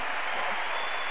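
A church congregation at a women's worship service applauds, a dense, loud, continuous wash of clapping from a large crowd, with no talk.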